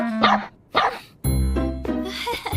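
A dog in an English-dubbed anime gives a couple of short barks, followed by a person speaking.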